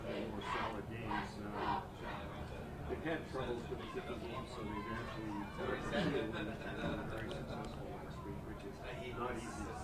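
Small crowd chattering and calling out at a high school football game, Gloucester Fishermen home field, steady murmur of many voices with occasional shouts and laughter throughout.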